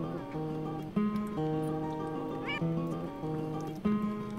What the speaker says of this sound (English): Oh, the kitty woke back up to listen to me play again.